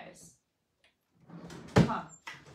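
A drawer is pulled open and pushed shut during a search, giving a sharp thunk and a sliding rattle at close range, with brief talk nearby and quiet gaps between.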